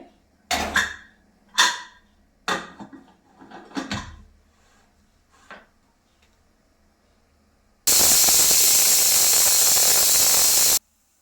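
A pressure cooker cooking chicken sambar gives several short, separate steam puffs, then a loud, continuous hissing whistle that lasts a few seconds before stopping abruptly.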